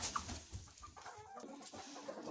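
Hens in a coop cluck in short, soft bursts while a broody hen sits on eggs, with scattered calls overlapping near and at moderate level.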